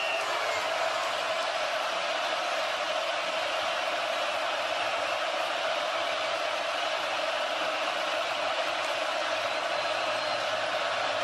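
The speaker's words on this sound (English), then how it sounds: "Crowd getting loud on third down and 8." A steady, wide roar from the stadium crowd at the 2024 college football game between #1 Oregon and #20 Illinois, swelling loud on a third-down play and holding as a constant wash of noise with no clear breaks.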